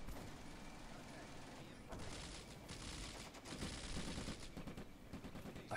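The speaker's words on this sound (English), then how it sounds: "Oh, do you see all them bloody mortar rounds come in?" Mortar and artillery fire in the World War II strategy game Combat Mission Afrika Korps, heard as continuous distant rumbling and crackling bursts under a voice.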